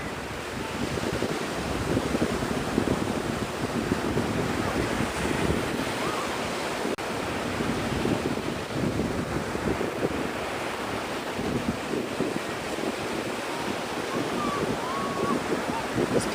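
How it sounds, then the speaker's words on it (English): Ocean surf rolls onto the sand at Opal Beach, Florida, on a calm day with little wind: a steady, close, unbroken wash of breaking waves with some faint wind rumble underneath. "The surf is perfect,"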